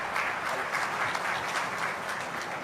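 A crowd applauds loudly and continuously at a hospital's 25th anniversary event, a dense, even wash of clapping with no gaps.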